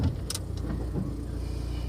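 A 1989 Honda Prelude SI with a shifting problem pulls away in first gear, its engine running low and steady close by with a brief light rattle near the start, and no voices heard.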